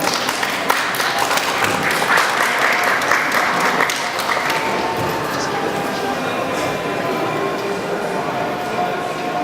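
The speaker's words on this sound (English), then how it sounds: "So let's give a round of applause for Kristin." An audience applauds to welcome a speaker at an inclusion event, sustained crowd clapping that stays full and even throughout, fading slightly toward the end, with faint voices mixed in.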